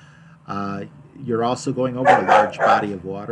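Close dogs bark and yip repeatedly in short bursts mixed with a man's speech, the barking rising in a loud cluster midway.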